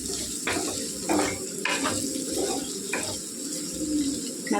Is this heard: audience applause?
no